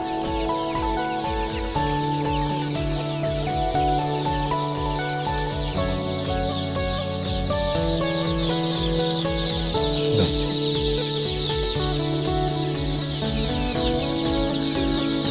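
Chickens cluck softly beneath loud, continuous instrumental music that plays throughout and largely dominates.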